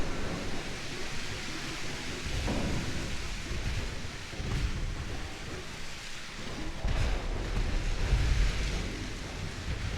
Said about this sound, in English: We are just raining shells down on this poor heavy cruiser.